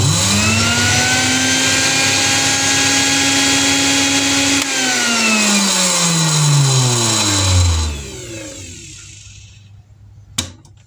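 An electric blender runs with a loud, steady motor whine, then winds down as it is switched off, its pitch sliding away into quiet before a sharp click.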